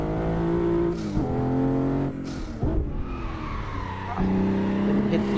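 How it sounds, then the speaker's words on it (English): A Toyota Supra MK5 driven in a racing simulator game, engine revving and shifting through gears with tire squeal on corners, loud and continuous with brief dips. "No, I'm driving the Supra MK5."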